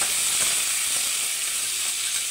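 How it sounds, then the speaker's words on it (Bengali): Crabs frying in a wok give off a steady, dense sizzle that stays loud and even throughout, with faint stirring scrapes and no voices. "কাঁকড়াগুলোকে কড়াতে দিয়ে দিয়েছি। এগুলোকে একদম ভালো করে ভেজে নেবো আমি।"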